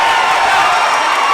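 A hometown crowd at a K4 Fighting Supernatural fight night roars loud and steady just after a fight ends, a dense wash of cheering with no breaks.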